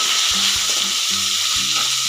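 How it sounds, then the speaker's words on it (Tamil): Small shallots sauté in hot oil with fried curry leaves for sambar, a loud, continuous sizzle up close with a few soft stirring knocks and scrapes. "சின்ன வெங்காயம் நல்லா வதங்க தேவையில்லை"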